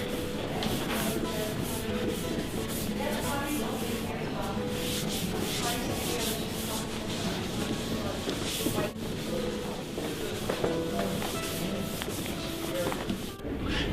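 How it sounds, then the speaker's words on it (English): Steel wool rubs old wax off a wooden dining table in a steady, continuous scrubbing rasp, close and moderately loud, with no talking over it. "the steel wool will start clogging up with the excess wax"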